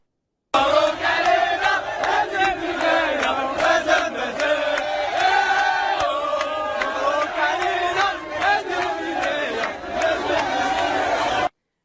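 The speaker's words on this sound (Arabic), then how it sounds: "نواصل مع بن عطيه الذي احتفل مع الانصار المغاربه ولكن على انغام اغنيه جزائريه" Crowd of Moroccan football supporters celebrating with a player, chanting and singing an Algerian song in unison, loud rhythmic voices with sharp claps or drum hits punctuating the chant throughout.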